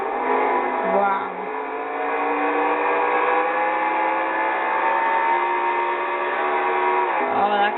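Stock race car at Dover with a damaged engine after a crash, a sustained high, strained over-revving whine that holds steady and loud for several seconds, dipping briefly near the start and end.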